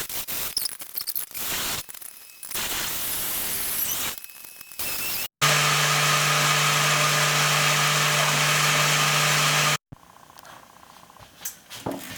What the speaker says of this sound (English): Blending this ice, though it may be slightly challenging, produces a very nice milk smoothie that's quite like ice cream.